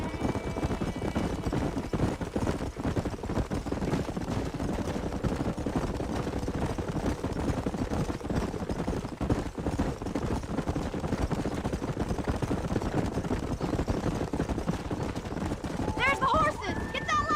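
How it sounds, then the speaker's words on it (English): Horses gallop in the Red Dead Redemption video game, a dense steady drumming of hooves under loud continuous action and rumble, with a brief burst of other sound near the end. "There's the horses!"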